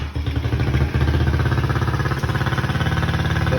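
A cold ATV quad engine catches and runs, its steady, rhythmic chugging and pulsing putter close and loud throughout with a slight dip partway through.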